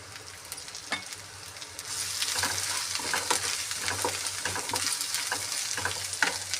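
Ginger and garlic with turmeric frying in a pan, a dense close sizzle that swells after the first seconds, punctuated by regular scraping stirs.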